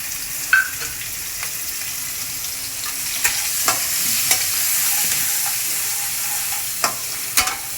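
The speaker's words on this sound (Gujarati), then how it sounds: "હવે એમાં આપણે આ પ્યાજ ના મરચાં નાખી દઈશું પહેલાં. તેલ, જીરું, હિંગ." Onion chillies frying in oil with cumin and asafoetida for onion kachori, a steady close sizzle punctuated by occasional spoon clicks and stirring scrapes, without talk.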